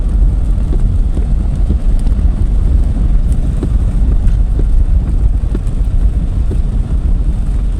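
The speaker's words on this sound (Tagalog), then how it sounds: "malakas na ang ulan." Heavy rain on the road at dusk, heard from inside a moving vehicle as a loud, dense, steady roar mixed with low rumble and wind buffeting, with no talking.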